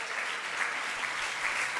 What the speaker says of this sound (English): Can I hear a loud clap?